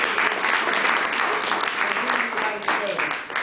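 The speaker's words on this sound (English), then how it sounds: "Let's give applause" Crowd applause at an AIPAC gathering, sustained clapping throughout at steady, fairly loud volume.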